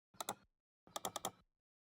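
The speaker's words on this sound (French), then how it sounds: "j'ai ajouté un clic de souris" Quick clicking sound effect of a computer mouse, one short double click and then a faster burst of four clicks, crisp and close in an otherwise silent background.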